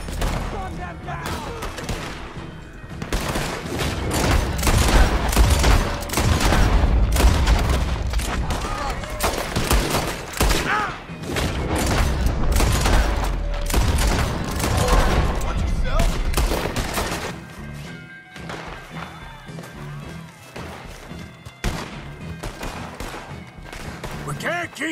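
Rapid gunfire bursts and booming shots fill a chaotic shootout in the video game Red Dead Redemption 2, loud and nearly continuous, with shouted voices mixed in throughout.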